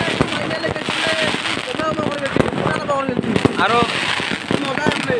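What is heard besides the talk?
firecrackers exploding at Ravan Dahan festival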